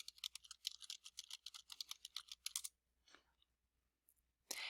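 Rapid typing on a computer keyboard, a steady run of crisp, close keystrokes for a few seconds before stopping, followed by a faint click and a final burst of key noise.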